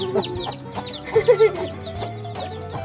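A frizzle chicken clucks nearby in a short series of low clucks, set among other farmyard birds whose sharp chirps and calls repeat throughout.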